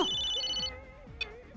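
A telephone ringtone plays alone for a short burst of electronic tones, with steady chiming pulses fading after the first part of the ring.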